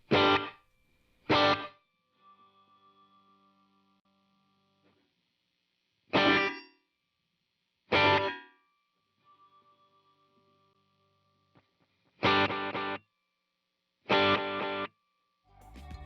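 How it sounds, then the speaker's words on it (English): Short bursts of a plucked or strummed instrument through a Boss RV-500 pedal's dual reverb, each followed by a long, fading reverberant tail that lingers and decays before the next burst. "The dual reverb is a special one that allows you to have two reverbs going at the same time"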